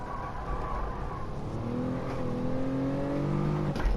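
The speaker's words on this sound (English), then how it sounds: "I think the game lets it rev out a little bit higher than that" A car engine in Gran Turismo 7, played on a sim wheel, drones steadily and then climbs in pitch as it revs higher, close and fairly quiet, with no talk.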